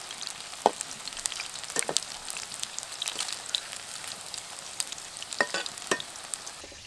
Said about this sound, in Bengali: আর দেখুন আমি ঠিক যেভাবে ভাজি উল্টে পাল্টে দিয়ে ঠিক সেভাবেই চিকেনের পিসগুলো ভেজে নেব।